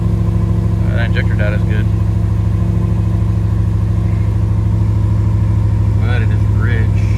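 A car engine with newly installed FIC 2150cc fuel injectors, running rich, idles steadily with a low, even rumble throughout, while someone speaks briefly over it.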